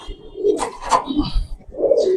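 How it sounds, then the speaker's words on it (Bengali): A pigeon for sale at a pigeon seller's in Mirpur, Dhaka, cooing close by in a few soft, throaty bursts, alone without talk. "এখানে আছে এক পিস কবুতর ভাই"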